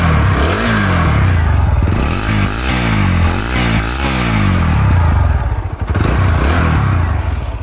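A TVS Apache RTR 160 4V motorcycle from 2020 with a free-flowing silencer revs hard, its engine note climbing and falling in repeated loud throttle blips, close and unbroken with no talking.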